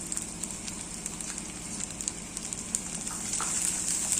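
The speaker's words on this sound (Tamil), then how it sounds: "வெங்காயம் வதங்கட்டும்." Onions sautéing in a pan with curry leaves for masala mango rice, a faint, steady crackling sizzle with light pops throughout.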